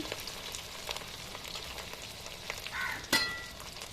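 Chopped cabbage and onion frying in a pan for egg chowmein: a soft, steady sizzle with scattered crackles and a brief louder hiss and scrape of stirring near the end, close and quiet, without talk.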